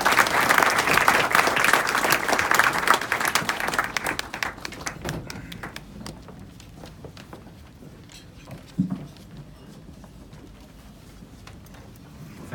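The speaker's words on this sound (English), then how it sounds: "Let's welcome Mr. Sibal. A loud round of applause." A loud audience ovation welcomes Kapil Sibal at the House of Lords, a full wash of clapping that swells over the first few seconds, then thins to scattered individual claps and fades away.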